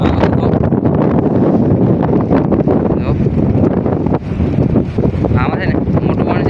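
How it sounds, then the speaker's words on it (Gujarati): Strong sea wind buffets the microphone aboard a fishing boat under way at sea, a constant loud roaring rush with gusty rustle and no break throughout. "બોટ ચલાવે છે પવન છે થોડોક જોરદાર"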